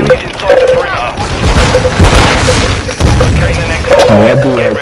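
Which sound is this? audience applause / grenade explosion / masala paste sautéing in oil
grenade explosion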